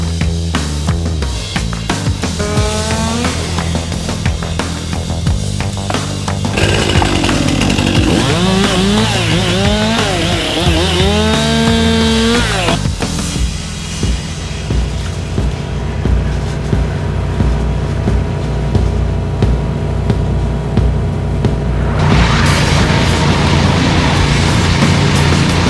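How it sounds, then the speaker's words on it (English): A Först TT6 wood chipper runs with a loud, constant engine roar while its whining pitch repeatedly swoops and bogs as material feeds through, then surges back up near the end. "The chipper's been great today."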